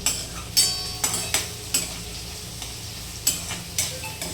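Onions frying in a pan for a potato bhaji, stirred with a utensil: a soft, steady sizzle broken by repeated sharp scraping strokes in loose rhythm, close and alone.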